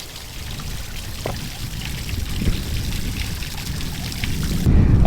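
Water pours steadily into a freshly cleared garden fish pond outdoors, a continuous close splashing trickle that grows louder and heavier toward the end.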